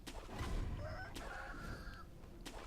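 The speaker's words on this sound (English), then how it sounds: "Oh, I hear fucking roosters already." Roosters crow in Sekiro: Shadows Die Twice, a few drawn-out cock-a-doodle calls with clucking heard at moderate distance over ambient game noise.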